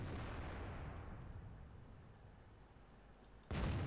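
Rumbling tail of a blast fades out, then one sudden loud tank cannon shot in World of Tanks erupts near the end.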